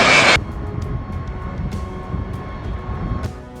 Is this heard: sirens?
no